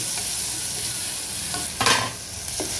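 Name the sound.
garlic paste frying in a pan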